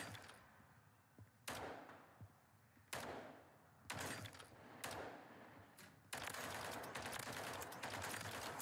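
Gunfire on a firing range in Modern Warfare 3, sharp shots cracking out one at a time at irregular intervals, then a sustained burst of rapid fire near the end.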